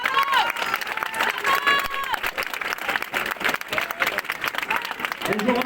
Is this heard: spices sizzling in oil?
no